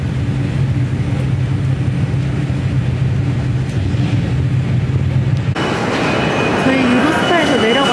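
Inside a Eurostar train carriage from London to Paris, a steady low rumble and rolling hum of the moving train fills the space, with a sharper shift in noise near the end, and people talking throughout.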